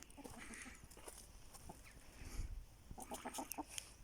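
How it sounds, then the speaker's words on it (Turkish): Chickens cluck and squawk in short, scattered bursts at close range, with faint rustling and pecking between calls. "İçinde kalan kötülerini falan şu anda tavuklar yiyorlar."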